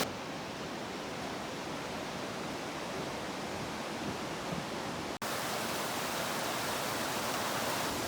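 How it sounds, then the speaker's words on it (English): Djupiska, Sweden's highest waterfall, roars as a steady dense wash of falling water, loud and unbroken throughout apart from a brief cut. "we traveled to Djupiska, which is Sweden's highest waterfall"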